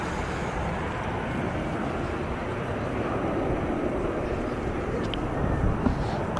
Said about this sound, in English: There goes the Jet2 A321 heading to the lovely destination of Santorini.